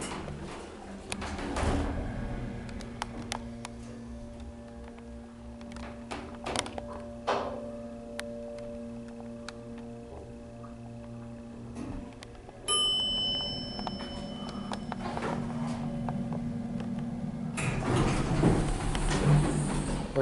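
Hydraulic elevator at Boscov's in the York Galleria, York, Pennsylvania, running with a steady low hum, a door sliding and a bright chime partway through, then louder machinery rumble near the end.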